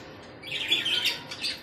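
Pet parrots kept for breeding chirp in a bright, fairly loud burst of overlapping squeaky tweets lasting over a second, with no talking.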